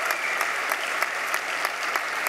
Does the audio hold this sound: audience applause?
yes